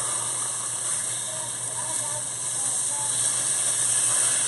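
Pork chops sear in a hot pan, giving a steady, even sizzle and hiss that lasts throughout with no talking.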